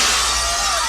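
Glass shatters in a fight scene from the 1990 action film Hard to Kill: a loud, dense crash of breaking glass that fills the whole second without fading.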